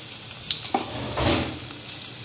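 Garlic sizzling in hot oil in a kadhai, a close, steady crackle with a few scraping stirs and a louder burst of frying partway through.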